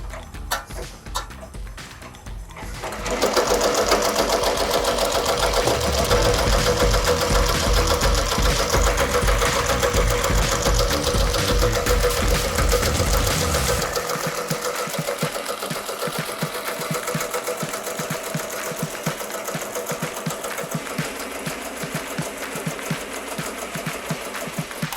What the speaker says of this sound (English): All I have to do is press start and it'll do the placement stitch